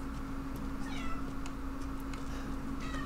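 A pet cat meows softly several times at a distance, faint chirping calls over a steady electrical hum and room noise.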